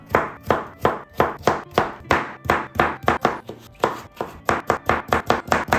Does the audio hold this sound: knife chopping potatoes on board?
yes